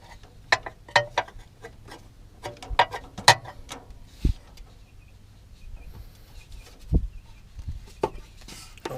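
A wrench ratchets and clicks in short irregular bursts while a steering nut is tightened on a Ford Ranger, with a few dull metallic knocks between the clicks, close up in a quiet workshop.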